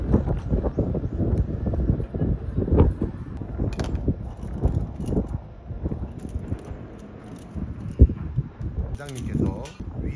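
Strong wind buffets the microphone high up on the exterior wall of a 25-storey apartment building, gusting unevenly under near-constant talking.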